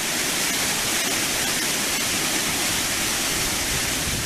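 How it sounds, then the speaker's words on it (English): A waterfall plunges several feet into Falling Creek, a loud, unbroken, full-bodied roar of rushing water that holds steady throughout. "it goes and flows until it gets to the fall, where it plunges several feet down into the creek"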